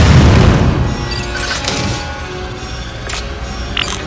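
A heavy explosion blasts the eruption forge in Metroid: Other M, opening with a loud low boom that rolls into a long rumbling tail, with a few sharper metallic cracks and debris hits scattered through the decay.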